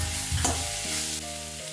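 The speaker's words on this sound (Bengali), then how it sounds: "এবার আমি এতে ভাপিয়ে নেওয়া কড়াইশুঁটিগুলো দিয়ে দিলাম" Steamed green peas are tipped into a pan of vegetables frying for a curry, giving a short burst of sizzle with stirring scrapes and a faint clink near the start.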